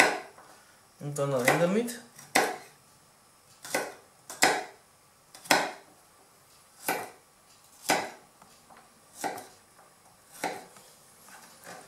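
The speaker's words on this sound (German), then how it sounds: "Dann den Knoblauch. Einmal ein bisschen schneiden. Da nur so Scheibchen." A kitchen knife slices garlic into thin rounds on a cutting board, giving about a dozen crisp, evenly spaced taps close by. Someone speaks briefly near the start.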